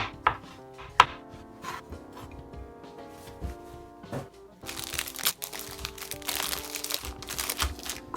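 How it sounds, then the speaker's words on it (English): A knife chops tomatoes, cream cheese and avocado into small pieces on a cutting board, with sharp irregular taps and soft squishy cuts that grow busier and denser in the second half. "Cut tomatoes, cream cheese, avocado, small pieces."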